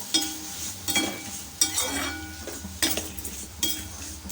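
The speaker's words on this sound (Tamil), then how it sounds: "சேர்த்து அப்படி கலந்து விட்டுக்கோங்க தக்காளி பழம் வதங்கட்டும்" Tomatoes with salt sauté in a pan while a utensil stirs them, soft sizzling under repeated scraping and clinking strokes against the metal, roughly one stir every second, close by with no talking.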